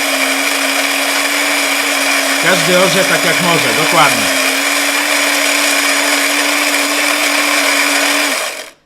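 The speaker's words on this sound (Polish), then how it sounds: "Czy spienia mleko za każdym razem." Steady whirring hum of a coffee machine frothing milk, loud and continuous before cutting off abruptly, with people briefly talking over it.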